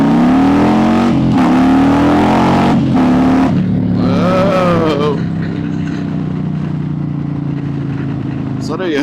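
A Harley-Davidson Softail motorcycle revs hard in first gear with a loud, close engine roar that climbs in pitch through short shifts, then settles into a steadier drone, with a voice speaking over it.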